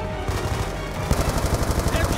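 Rapid gunfire from the Black Ops 2 campaign mission, a steady run of close, loud shots over a constant game backdrop with music.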